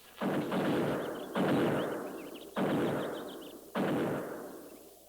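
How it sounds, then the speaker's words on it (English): Four heavy buffalo gun shots ring out one after another at roughly even intervals, each a sharp loud blast followed by a long rolling decay, with no talking. "Buffalo guns. That's one sound they can't muffle."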